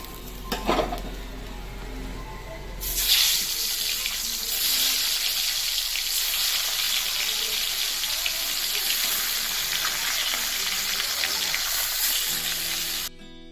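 Bhetki fish pieces frying in hot oil give a steady, dense sizzle that starts abruptly after a brief quieter moment and holds evenly loud until it cuts off near the end.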